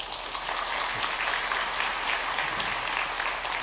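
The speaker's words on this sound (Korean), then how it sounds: "인사하실 때에 박수로 환영하도록 하겠습니다." Steady applause from a congregation indoors at a Sunday church service, a warm continuous clatter of many hands clapping for a few seconds.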